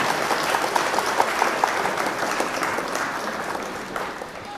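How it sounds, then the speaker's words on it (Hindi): Sustained applause from the audience at an All India Mushaira poetry event in Khatauli, a dense, even wash of clapping that holds steady and fades slightly at the end. "जोरदार तालियों से काजी नबील साहब का इस्तकबाल करें।"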